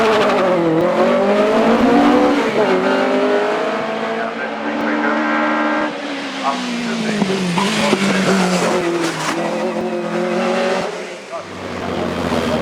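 A Mallock Mark 21 race car climbs the Shelsley Walsh hillclimb, its engine loud and close as it revs up and down through the gears with harmonic whine throughout, while a voice talks over it.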